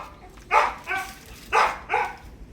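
A dog barks four times in two quick pairs, loud and close, against a quiet background.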